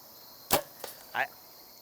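An arrow striking a deer during a bowhunt makes a sharp, loud impact crack, followed by a fainter rustle and then a second short thud, in a quiet outdoor setting.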